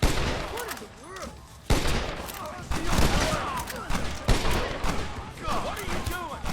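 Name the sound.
gunfire in a shootout at a gate, from video game Red Dead Redemption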